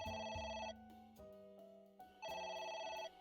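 A telephone rings in the video game AI The Somnium Files, a bright electronic tone sounding in two separate bursts with a quieter tonal gap between them, fairly faint and with no talk over it.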